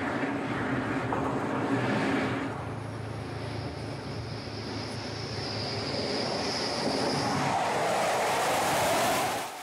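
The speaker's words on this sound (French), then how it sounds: "4 Rafales rentrent de mission et s'apprêtent à apponter." Broadband roar of Rafale fighter jets coming in to land on an aircraft carrier at sea, a rising whine and rushing noise swelling loudly toward the end, with no voices.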